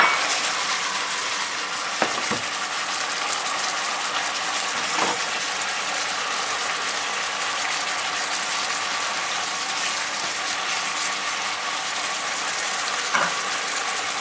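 Grouper being stir-fried in a pan gives a steady, loud, dense sizzle that lasts throughout, with a few brief clicks and scrapes from the utensil and no voices.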